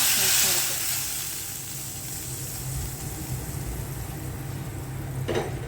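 Curry leaves hit hot oil and are added to a lentil and cucumber curry, giving a loud, close, continuous sizzle. It flares up at the start, then settles into a steady hiss.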